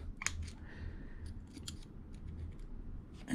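Scissors snip fishing line while a lure is being made, a few crisp close cuts with small handling noises in between, quiet and with no talking.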